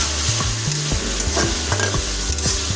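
Chicken pieces frying in a kadai for chicken ghugni, stirred with a spatula, giving a loud, continuous sizzle broken by rhythmic scraping strokes close up, with no voices.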